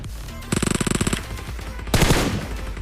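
Rapid burst of automatic gunfire in a mobile battle-royale shooter as an enemy is knocked down, about a dozen evenly spaced loud shots followed by a second harsh, noisy blast, with game ambience throughout.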